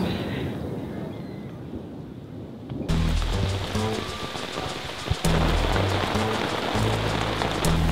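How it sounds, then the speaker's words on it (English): Torrential rain pours down at a lakeside fishing spot at night, a steady dense hiss that turns louder and heavier partway through, with low rumbling underneath. "the rain's torrential and it looks like setting till the morning"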